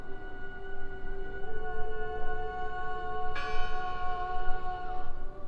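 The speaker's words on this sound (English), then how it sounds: "I heard the bell!" A bell tolls in the video game Draugen with sustained ringing tones over a low rumbling background, a fresh strike near the middle renewing the bright chime, heard alone and fairly clear.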